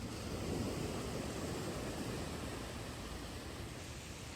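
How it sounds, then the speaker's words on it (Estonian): Ocean waves at night, heard from a beach bench, form a steady, fairly loud wash of surf that rolls on continuously with no voices over it. "Seal on ookean, aga te ei näe seda."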